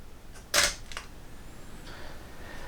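A single sharp mechanical click of a camera shutter firing, close and fairly loud, followed by a softer mechanical sound and quiet room tone, with no talking.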